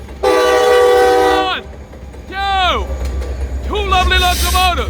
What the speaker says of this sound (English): the bells are ringing, and the trains are here